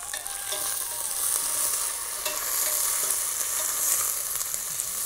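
Whole spices for an onion sambar temper in hot oil, giving a steady, fairly loud crackling sizzle with small pops and occasional stirring, heard alone with no voices.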